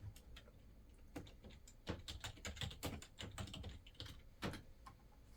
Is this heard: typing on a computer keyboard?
yes